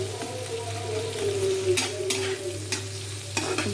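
An egg fries in a pan and is stirred, giving a steady, close sizzle under scraping strokes and a few sharp clinks; no one speaks.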